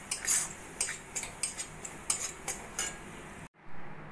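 Semolina and gram flour roasting in a pan for caramel semolina halwa, stirred with a metal spoon that scrapes and clinks against the pan in a steady series of sharp taps, close up and alone, ending in a brief silence.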